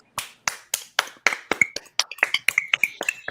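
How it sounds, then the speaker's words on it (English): Audience applause at a spoken-word poetry performance: a run of sharp, separate hand claps in an uneven rhythm, close and distinct, with no voices. "Applause, applause,"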